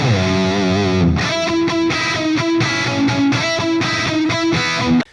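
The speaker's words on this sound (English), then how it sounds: "Direct to Pro Tools with a little bit of delay inside of Pro Tools is what it sounds like." Distorted electric guitar recorded direct into Pro Tools with a touch of delay, aiming for a wet/dry/wet 1990s tone: a sustained chord gives way to a rhythmic run of picked notes, loud and close, with no talk.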